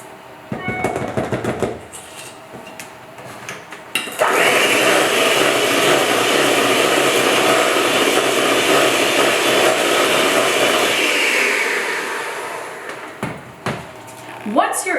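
Electric hand mixer creaming butter, sugar and eggs into batter for a holiday pear upside-down cake, a steady loud whir running about eight seconds, with talk before and brief clatter after.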